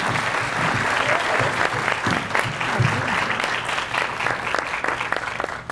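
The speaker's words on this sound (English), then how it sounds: "round of applause for our panelists today." An audience at a real-estate top agent panel gives the panelists a round of applause. Loud, dense clapping carries steadily for several seconds, with some crowd noise mixed in.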